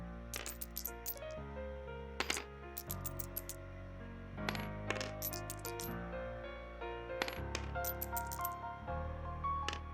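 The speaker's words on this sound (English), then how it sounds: "Hold on, I forgot to re-roll my dice." Dice clatter and rattle as they are rolled on a table during a tabletop role-playing game session. There are several quick bursts of clicking and clinking, close and fairly quiet, with no talk.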